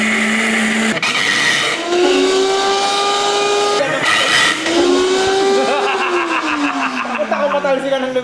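A blender grinds pistachios into pistachio butter, giving a loud, sustained motor whine whose pitch slides up and down as the load shifts, heard alongside laughter and chatter in a kitchen.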